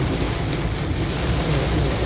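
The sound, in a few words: storm with rain and thunder while driving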